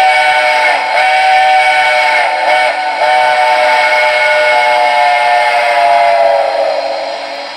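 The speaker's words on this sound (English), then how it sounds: "And then listen to the grade crossing whistle." An MTH model train of a New York Central L4B Mohawk steam locomotive sounds its grade crossing whistle: a loud, multi-chime steam whistle held for several seconds, with a few brief breaks, alone.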